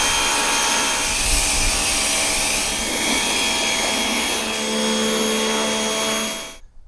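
A pressure washer jets water onto a campervan in the rain, producing a continuous loud hissing spray with a steady motor drone that cuts off abruptly at the end.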